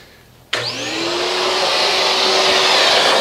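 A vacuum cleaner switches on with a sharp click and spins up to a steady, rising whine as it sucks Bermuda grass clippings from around a lawn mower air filter on a 2019 Wright 36i stander, loud and close.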